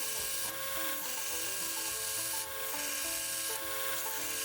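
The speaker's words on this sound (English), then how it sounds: "40 grit belt to do all of this shaping. It really takes off material really fast." A knife blade being shaped on a coarse 40 grit belt sander, giving a steady, loud abrasive grinding rasp with slight surges as the steel is pressed and lifted, heard alone without talk.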